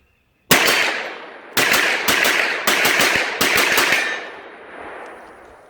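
Rapid gunfire from an MPX-C or AR rifle fitted with a Tac Con trigger, loud and close: several quick strings of shots in bursts separated by short pauses, each ending in a ringing decay.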